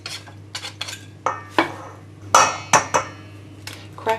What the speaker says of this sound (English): This part works better with a whisk or an electric beater.